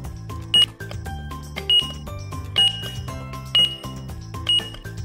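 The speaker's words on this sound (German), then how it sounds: "Omnom ist an der Kasse. Mal schauen, wie viel der Einkauf kostet." A toy cash register at a pretend shop checkout rings out repeated bright dings and clinks, roughly one each second, over a bouncy music-like electronic backing, loud and close with no talking.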